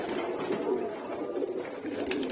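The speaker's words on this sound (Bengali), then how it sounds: "এই হচ্ছে আমার নর কবুতরগুলো" Male pigeons coo in their coop, a steady, low, rolling murmur of overlapping calls that carries on without pause at moderate loudness.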